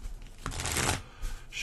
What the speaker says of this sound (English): Shuffle real quick here